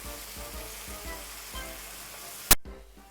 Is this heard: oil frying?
yes